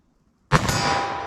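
A single .357 Magnum handgun shot fired outdoors at a range, a sharp close report that cuts in from near silence and leaves a long bright ringing decay with no talking over it.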